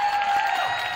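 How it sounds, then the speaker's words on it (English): Audience applause in a school gym for a senior wrestler being recognized at a high school wrestling dual meet, a steady wash of clapping that holds evenly through the whole second under a constant high tone. "a round of applause for Aaron Navarro"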